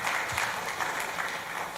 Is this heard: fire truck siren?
no